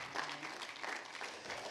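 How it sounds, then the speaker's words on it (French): An audience applauds to welcome a speaker at an insurance-industry talent event, a steady, dense patter of clapping that fills the whole moment with no voices over it. "On peut applaudir."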